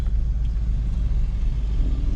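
Car engine rumbling at a drag strip, a steady low idle heard close and alone for a couple of seconds.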